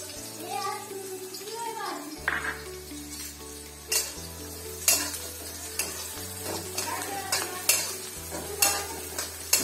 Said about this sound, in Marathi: तेल गरम झालेलं त्यामध्ये आता कांदा घालून घेऊ